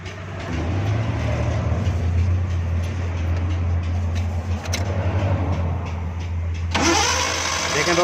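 A Suzuki Ravi pickup that stalled on the road is cranked and its engine runs with a loud, steady low rumble close by, the pitch and character shifting near the end.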